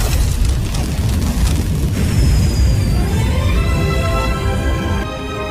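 A loud, sustained roaring blast with crackling texture fills the clip, followed by a rising whistle and ringing tones near the end.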